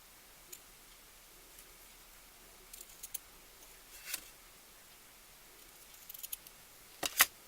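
Scissors snip the ends of a narrow quarter-inch ribbon at an angle, giving a few faint, sharp, isolated clicks and cuts against a quiet background, with the clearest snip near the end.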